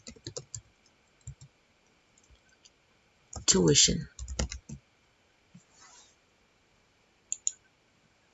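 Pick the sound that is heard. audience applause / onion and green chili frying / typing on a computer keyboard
typing on a computer keyboard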